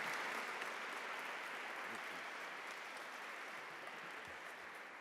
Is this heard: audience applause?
yes